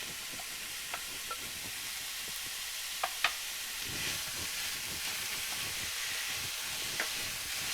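Minced beef and chopped garlic searing in a pan, a soft steady sizzle and hiss with a few faint clicks of a utensil, fairly quiet and without talk.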